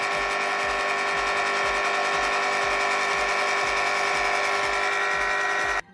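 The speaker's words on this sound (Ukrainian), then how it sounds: "морозиниця дуже-дуже гучна" A Clatronic ICM 3650 ice cream maker runs loudly and alone, a steady mechanical whine with a regular rhythmic clatter from its motor and paddle, close up, then cutting off abruptly at the end.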